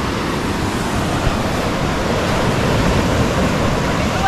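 Ocean waves breaking on a shore give a steady, loud wash of rushing surf across the whole clip, with wind noise mixed in and no pauses.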